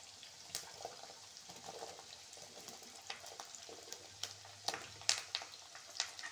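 Shallots and curry leaves sautéing in a pan for a wedding-style vathal kulambu, a faint steady sizzle with scattered small clicks and stirs, quiet and fairly close, no talking.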